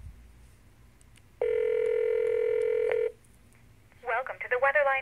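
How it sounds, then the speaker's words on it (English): A Cisco IP Phone 7960 on speakerphone starting a local call gives a loud, steady dial tone for about two seconds, then quiet, then a short stretch of voice. "And I will hit the speakerphone, new call. I'm making a local call."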